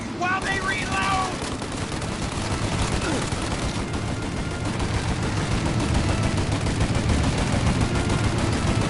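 Sustained gunfire from a shootout in the video game Mafia Definitive Edition, a dense, continuous barrage of loud overlapping shots running through the whole stretch, with a voice shouting briefly near the start.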